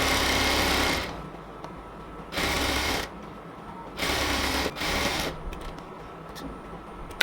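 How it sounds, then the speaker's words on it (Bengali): Sewing machine stitching elastic onto salwar fabric in three loud, close bursts of steady whirring, each about a second long, separated by quieter pauses. "ইলাস্টিকটা যখন আমরা সেলাই করব তখন দুপাশ থেকে টেনে ধরে সেলাই করতে হবে"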